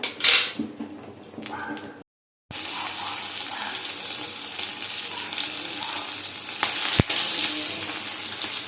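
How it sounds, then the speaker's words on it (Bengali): Garlic frying in oil for a chicken curry, a steady nearby sizzle after a short silent gap, with a sharp utensil clink near the end and no speech. "আমার রসুন ভাজার স্মেলটা খুব ভালো লাগে"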